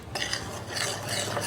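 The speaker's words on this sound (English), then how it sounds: "it says just kind of stir this together" Dry flour, baking powder and salt are stirred together in a bowl with a utensil, giving a continuous close scraping and swishing for about a second and a half with no voices.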